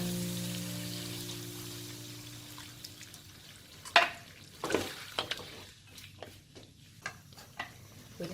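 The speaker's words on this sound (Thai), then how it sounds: "เราก็ใส่นี่เลยค่ะ น้ำสดลงไปเลยค่ะ" Fresh milk poured from a can into simmering southern Thai pork rib curry, a soft, steady liquid rush and bubbling with a few sharp clinks and scrapes of the pan partway through, no voices.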